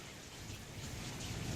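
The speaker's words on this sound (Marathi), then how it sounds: "अधूनमधून हलक्या ते मध्यम स्वरूपाच्या सरी कोसळत आहेत" Monsoon rain showers, light to moderate, fall steadily in Maharashtra as a continuous, fairly loud wash of hissing drops, with no voices.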